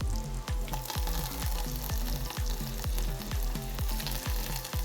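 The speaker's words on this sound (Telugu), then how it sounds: "లాస్ట్లో కరివేపాకు కూడా యాడ్ చేస్తున్నాను" Curry leaves and chana dal sizzling in hot tempering oil for gongura dal, a continuous close frying hiss punctuated by a steady run of rhythmic scraping strokes from stirring, with no talking.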